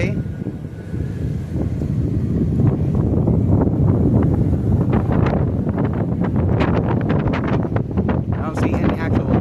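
Strong wind buffets the microphone in loud continuous gusts on a blustery day in Newport, Oregon, with a smoking electric vehicle fire nearby; a voice is faintly present under the rumble.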